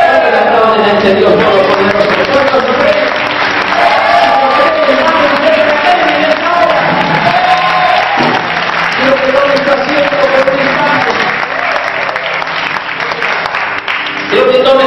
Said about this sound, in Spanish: ¿Cuántos lo aplauden ante Dios?